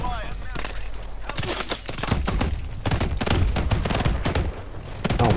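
Video game combat with a frag grenade and gunfire: dense rapid shots and bursts overlap continuously at close range, loud and sustained, with a voice audible beneath the firing.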